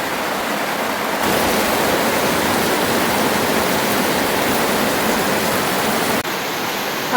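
Heavy rain pours in a dense, loud, unbroken hiss that swells after the first second and eases slightly near the end.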